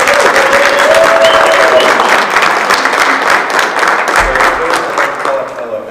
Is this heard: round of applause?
yes